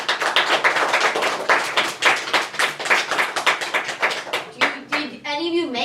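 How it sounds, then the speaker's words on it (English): Half-hearted applause from a comedy show audience, a steady patter of many hands clapping close by, fading toward the end as a voice starts to speak. "You half-heartedly clapped."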